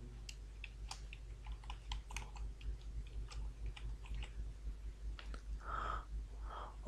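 Watermark text being typed on a computer keyboard in MS Word: quiet, close, irregular key clicks in quick bursts over a low hum.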